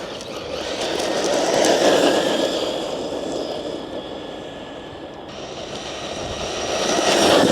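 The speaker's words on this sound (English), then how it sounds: "Here she comes, that's full throttle straight away. Flat out, full beans, everything." An Arrma RC car runs a full-throttle pass, its electric motor giving a loud, steady high-pitched whine that swells as it approaches, eases off, then builds again.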